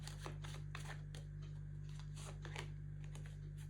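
Tarot cards being shuffled by hand, a soft run of papery riffles and flicks repeating at an irregular pace over a steady low hum, with no talking.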